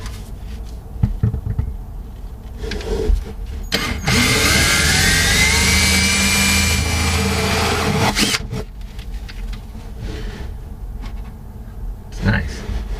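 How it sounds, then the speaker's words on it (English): A power drill bores exit port holes for a diesel heater exhaust on a catamaran, whining steadily for about four seconds between quieter handling knocks and shuffles. "Now let's drill through the hole."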